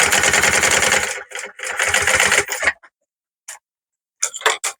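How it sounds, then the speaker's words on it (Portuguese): A sewing machine stitches a seam along the edge of fabric while making unisex men's garments. A steady run of rapid, evenly pulsing stitches lasts about a second, followed by several shorter bursts separated by silent pauses. "Faço uma costura na beiradinha"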